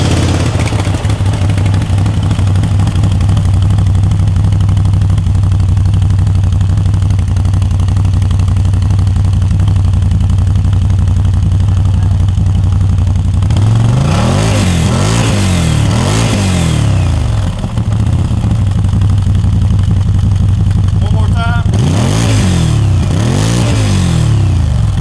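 Stock exhaust on a CFMOTO 800 ATV idling with a steady low thump, then blipped hard in two bursts of revving that climb and fall back to idle, loud and close with no talk.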